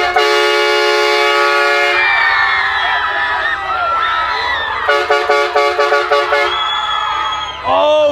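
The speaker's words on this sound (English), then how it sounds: "This button right here, train horn" A loud vehicle-mounted train horn blasts steadily for about two seconds over crowd noise, followed by a series of short rhythmic honks and excited voices.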